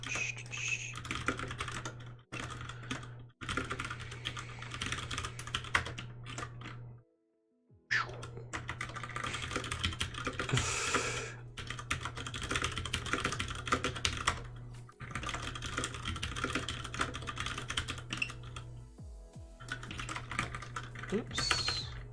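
Keys clatter steadily on a computer keyboard during a coding session, a close, continuous run of fast typing with brief pauses, over a low steady hum.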